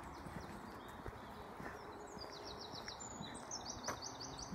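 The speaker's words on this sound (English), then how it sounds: "Loads of birds calling in the woods." Birds call here and there in woodland with faint, high chirps and short trills over a quiet outdoor hush, with scattered footsteps or hoof-like clops close by.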